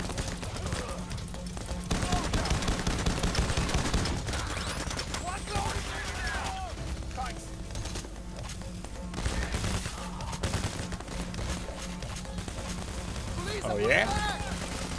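Gunfire in the video game PayDay The Heist during a bank robbery: dense, continuous rattling shots and bursts pile over a constant low rumble, with occasional tonal game effects and someone talking intermittently.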